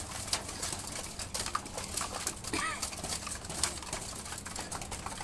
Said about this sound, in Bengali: আবার দেখুন সব কবুতরে কীভাবে এরা গ্রিড খাচ্ছে।